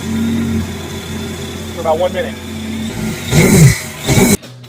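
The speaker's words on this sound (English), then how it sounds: "Gotta warm up the engine" A Yamaha GP FX SVHO personal watercraft engine idles steadily with a low hum while warming up, then briefly revs up in a couple of surges near the end while a person talks over it.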